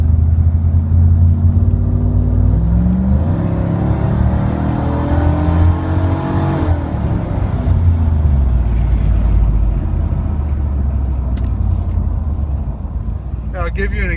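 A 1994 Pontiac Firebird Trans Am engine runs hard and climbs through the revs, then drops sharply at a gear shift and pulls up again, loud and close, with a voice over it.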